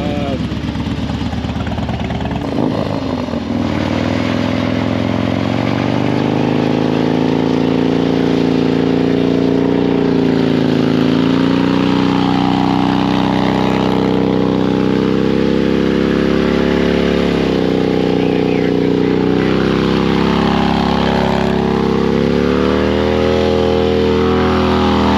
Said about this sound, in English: Too much throttle. I gotta hit the limiter. Too much gas.